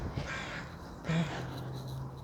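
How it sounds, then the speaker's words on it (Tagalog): Crows cawing outdoors on a windy autumn walk, two short harsh caws about a second apart, moderately distant over a steady background hum. "Ay, mga ibon, oh."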